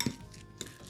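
A spoon clinks against a bowl as a stuffed potato filling with chillies, bacon and cheese gets mixed, a couple of faint scraping, clinking strokes in a quiet kitchen.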